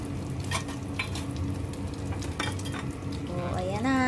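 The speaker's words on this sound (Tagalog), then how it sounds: "Baliktarin natin ang ating piniprito'ng pork chop" Pork chop frying in a pan, a dense, steady sizzle with scraping as the meat is turned, close and loud, with a rising tonal whine at the very end.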